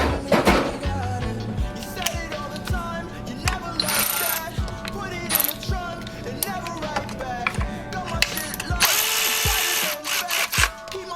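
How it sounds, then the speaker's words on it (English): A ratchet wrench turns bolts on a TSI engine water pump in a workshop, giving repeated clicking bursts and clanks close by, with a person speaking between them. "And a ratchet."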